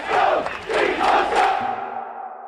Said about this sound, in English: During the afternoon, thousands of police officers crowd outside City Hall.